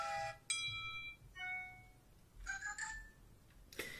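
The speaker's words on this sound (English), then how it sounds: "you do have a classical folder here with even older ringtones" Several older classical phone ringtones previewed in quick succession, short melodic electronic tones and a ringing bell-like burst, each lasting under a second with small pauses between, close and clean without voices.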